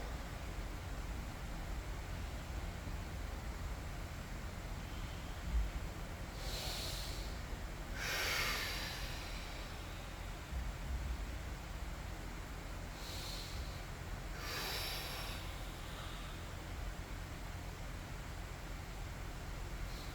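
Slow breaths in and out through the nose during a gentle neck stretch in a home garage workout, coming as two pairs of soft, airy inhales and exhales over a faint steady hiss.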